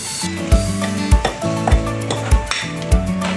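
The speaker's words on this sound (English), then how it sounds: "Add that egg here. Continue doing the same thing. Mixing." Eggs being mixed by hand into red velvet cake batter, with rhythmic scraping strokes against a bowl recurring about every half second, close and fairly loud, while a low tonal hum sits underneath.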